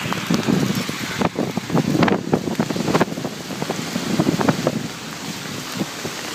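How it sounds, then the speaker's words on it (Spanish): A violent hailstorm: dense, irregular pelting of hailstones hammering nearby surfaces, with sharp loud hits scattered through a constant roar of wind-blown noise. "Una tormenta de granizo."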